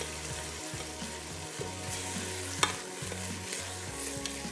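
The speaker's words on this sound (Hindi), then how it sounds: "अब दाल और कीमे को मिला के अच्छे से हम कर लेंगे फ्राई।" Minced meat and green mung dal fry and get stirred together in a pan, with a steady sizzle and repeated scraping and stirring strokes throughout, no talking.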